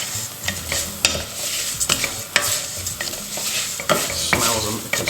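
Basmati rice with cinnamon and cardamom being stirred as it fries in a pan, a steady sizzle broken by repeated scraping strokes of the spoon, close and clear with no talking.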